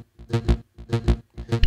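Soloed synthesizer with sidechain compression applied: three chord swells that each duck to silence and rise again in a pumping rhythm, played loud and alone.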